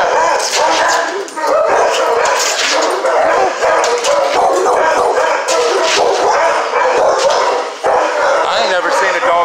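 Dogs at the Butler County dog pound bark, yip and whimper loudly and almost without pause, close by, while people talk excitedly over the din.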